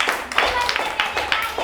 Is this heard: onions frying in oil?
no